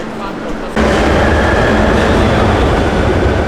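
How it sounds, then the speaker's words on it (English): A Barcelona Metro subway train roars loudly, the rumble surging suddenly after a quieter start and holding at a steady, rattling din. "Makes a lot of racket, that subway."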